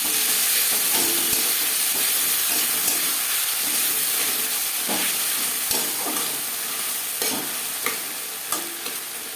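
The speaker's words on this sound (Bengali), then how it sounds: "কাঁচা গন্ধ যাওয়া পর্যন্ত নাড়াচাড়া করে দেবো" Ginger and green chilli paste with chopped tomato frying in a pan and being stirred: a loud, continuous hissing sizzle broken by scraping strokes of a spoon, close up and with no speech.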